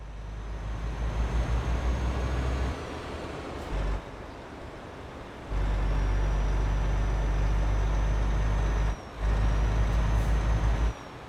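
A heavy truck in Euro Truck Simulator 2 pulls away from a green light, its engine a loud steady rumble that drops out briefly between gear changes, with a faint air brake hiss and whine over the drone.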